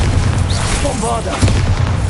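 Bombarda spell explosion in Hogwarts Legacy on PS5, a booming blast with a low rumble mixed into continuous game effects and spell sounds.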